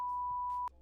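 A single sharp censor beep, a steady pure tone lasting most of a second, masks a spoken name, with faint voice fragments beneath it before the beep cuts off abruptly.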